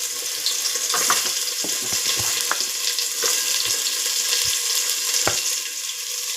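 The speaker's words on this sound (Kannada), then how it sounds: "ಚೆನ್ನಾಗಿದು ಗೋಲ್ಡ್ ಕಲರ್ ಬರೋ ತನಕ ಫ್ರೈ ಮಾಡ್ಕೊಳ್ಳೋಣ" Garlic and onions sizzle steadily in hot oil in a pan, a continuous close frying hiss broken by occasional stirring clinks and scrapes, with no voices over it.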